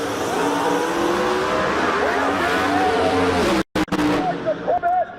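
Drag racing cars, one of them twin turbo, roaring off the line at a muscle car meet, a loud sustained engine blast with tire squeal, cut by a brief dropout before the rising engine tones resume amid a commentator's voice.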